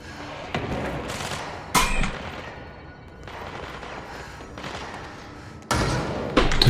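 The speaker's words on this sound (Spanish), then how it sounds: "Estoy escuchando disparos por todos lados." Gunfire in the video game Control: muffled, thudding shots and bursts at irregular intervals over a steady rumbling background, with a louder cluster of blasts near the end.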